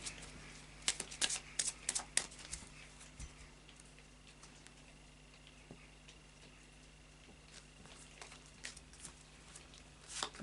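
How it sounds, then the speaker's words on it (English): An Oracle of Visions deck of cards being shuffled by hand, quick crisp riffling bursts near the start and end with softer card handling in between, close and quiet. "then we'll do a final shuffle of the Oracle of Visions"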